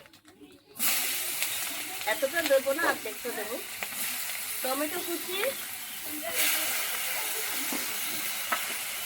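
Onion and tomato frying in mustard oil in a pan, giving a steady close sizzle throughout, with someone talking over it in bursts.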